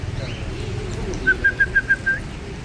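A series of six short, sharp parrot whistles in quick even rhythm, fairly clear over low background rumble.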